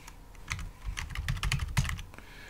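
Quick run of keystrokes on a computer keyboard as a password is entered, a dozen or so close, crisp clicks in an uneven burst lasting about two seconds, alone without talk.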